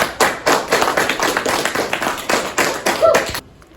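A classroom audience of sixth graders claps for about three and a half seconds, producing a steady patter of overlapping hand claps that stops abruptly.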